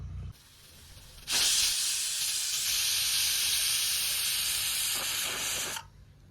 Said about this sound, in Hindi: कुकर में आ गई 3 सीटियां।